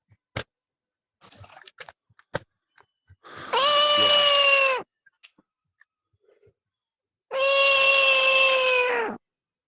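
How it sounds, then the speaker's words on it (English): A cat meows twice in long, drawn-out, tonal calls, loud and close, separated by a few seconds of near silence with faint clicks and taps. "Oh, it's got some meowing."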